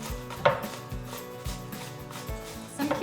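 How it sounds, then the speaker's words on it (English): Cucumber being grated for tzatziki, a series of rhythmic rubbing strokes against the grater, fairly quiet and close, with a faint clatter at the start and end. "So I'm just gonna take a cucumber and I'm just gonna grate it right in."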